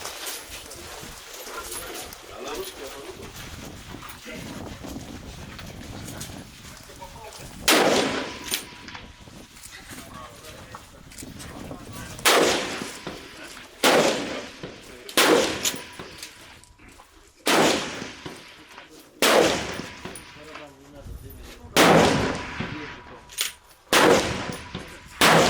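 Ten-round carbine rifle fired at an outdoor shooting competition, a series of sharp loud reports spaced irregularly a few seconds apart, over background chatter and murmuring from people around the range.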